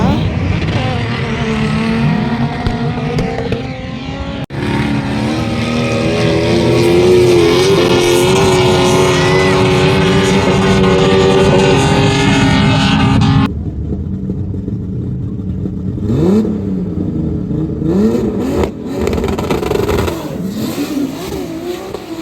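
A car screams past at speed at the Liwa desert festival in Abu Dhabi, its engine revving hard and rising loud and close before dropping away, with crowd noise and voices around it.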